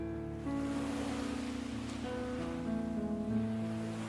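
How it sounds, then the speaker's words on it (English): Ocean waves washing steadily onto the shore, a soft continuous surf hiss layered under sustained, calm tonal music, with no talking. "the steady sound of the rhythmic ocean waves"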